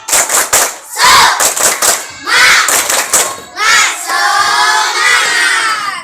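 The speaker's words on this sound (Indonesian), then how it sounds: "Tepuk semangat." A group of schoolchildren perform a spirited clap chant, loud rhythmic bursts of clapping and shouted syllables in quick patterns, ending in a sustained group shout.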